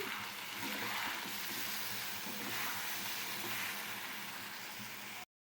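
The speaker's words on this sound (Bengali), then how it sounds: "খুব ভালো করে মশলাটাকে কষিয়ে নেব" Spice paste with ground cumin and turmeric sautéing in a pan, giving a steady close sizzle and hiss that runs evenly throughout before cutting off abruptly.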